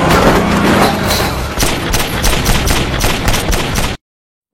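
A movie shootout with rapid, loud gunfire: dense bursts of shots and sharp cracks in quick succession, ending abruptly.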